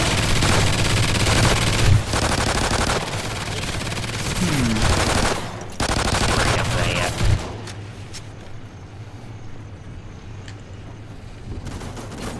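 Bursts of pistol and automatic gunfire in Call of Duty Ghosts Extinction, loud for several seconds and then dropping to quieter ambience, with a voice talking over it.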